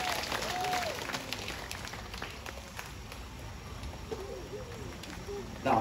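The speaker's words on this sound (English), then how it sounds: "let's give a round of applause to Oscar, the Eurasian Eagle Owl, and our trainer" Moderate audience applause during an outdoor night safari show featuring a Eurasian eagle owl, steady clapping with a few voices mixed in and a brief louder burst at the very end.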